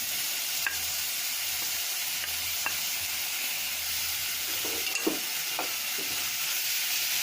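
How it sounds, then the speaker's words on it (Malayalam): Onion, tomato and green chilli sautéing in a pan for a Malabar sardine curry, giving a steady close hiss with a few soft scrapes of stirring and no voices. "നല്ലപോലെ ഒന്നുകൂടി വഴറ്റിയെടുക്കാം"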